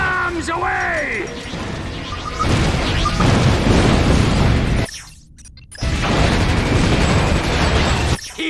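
Bombs going off in the Ratchet: Deadlocked video game, loud sustained rumbling blasts that roll on for seconds, cut by a brief drop before another long explosive roar, with game voices and effects in the mix.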